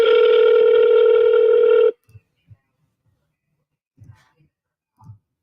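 A telephone line gives a steady, loud electronic tone for about two seconds, then cuts off abruptly, leaving near silence with a few faint low clicks and thumps, as a dialed call goes unanswered.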